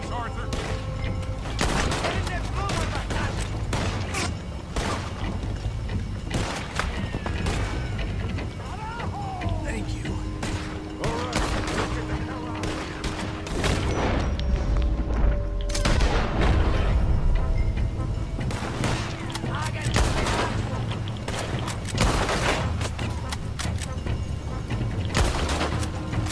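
Gunfire in a Red Dead Redemption 2 shootout: repeated sharp rifle and pistol shots crack at irregular intervals over a steady background din, with shouted voices occasionally mixed in, loud and close throughout.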